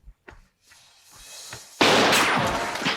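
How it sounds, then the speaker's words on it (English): Cowboys shoot kangaroos out in the Australian outback, a few short cracks at first, then a sudden loud, sustained burst of blasting and rumble that fills the rest of the moment. "They're shooting these poor kangaroos for fun."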